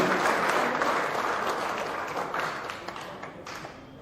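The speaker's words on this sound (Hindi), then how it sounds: "एक बार तालियों की गड़गड़ाहट से हमारे सभी" An audience at a welcoming gathering in India breaks into sustained applause, a loud, dense wash of many hands clapping that slowly eases off toward the end, with no talking.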